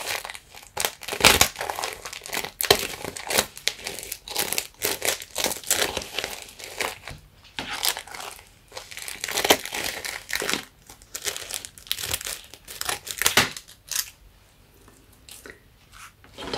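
Scissors working through stiff plastic packaging in close-up ASMR style, with a long run of crinkling, crunching cuts and rustles in irregular bursts, nearby and fairly quiet.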